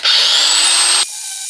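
A power sander, fitted with around 240 grit, whines loudly and evenly on wood up close for about a second, then drops to a quieter winding-down hum.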